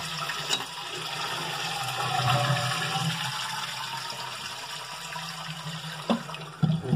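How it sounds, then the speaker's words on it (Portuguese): An Astra side-button toilet flush with a newly fitted complete flush kit: a steady rush of water runs for several seconds, close and fairly loud, with small knocks near the end. "vou dar mais umas descargas aqui."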